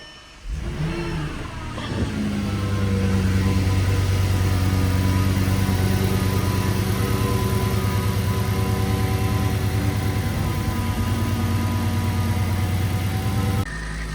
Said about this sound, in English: So we're gonna start up the engine and we're gonna try it.